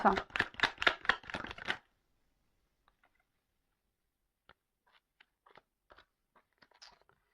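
Tarot cards are shuffled briskly for about two seconds in a close, crisp riffle, then fall quiet before scattered soft ticks as cards are laid down one by one for a nine-card spread.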